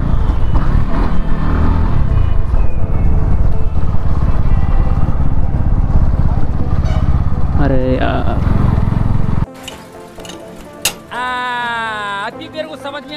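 A Pulsar NS motorcycle on a test ride after engine work gives a loud, continuous engine drone with wind rush, revs rising briefly near the end before the sound drops and changes abruptly.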